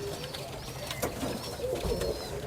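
Pigeons of a special breed from Uttar Pradesh coo softly and steadily at close range, their low throaty calls overlapping one another against a murmuring loft background with no talk.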